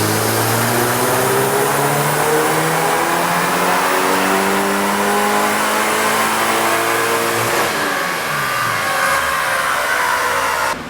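A turbocharged car engine on a dyno, running about 20 pounds of boost, roars loud and close as it climbs steadily through the revs for several seconds, then drops back and rises again near the end.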